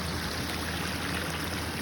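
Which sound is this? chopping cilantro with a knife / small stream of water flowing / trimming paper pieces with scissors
small stream of water flowing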